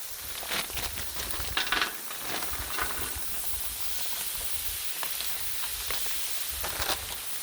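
Frozen steam-fresh broccoli, carrots, sugar snap peas and water chestnuts stir-frying on a griddle, a soft continuous hiss and sizzle with faint scraping and stirring clatter throughout.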